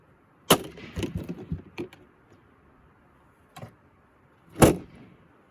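A metal rake swung hard into a wooden object, giving loud, sharp cracking impacts: one bang, a rapid cluster of splintering hits, a lone knock, then a final heavy smash, with quiet stretches between.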